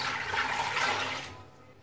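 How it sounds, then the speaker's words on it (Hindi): One litre of water pours into a pressure cooker holding frozen beef, a steady, full, splashing rush that holds for over a second and then tapers off quickly, with no talking. "तो इसके अंदर हम डालेंगे 1 लीटर पानी"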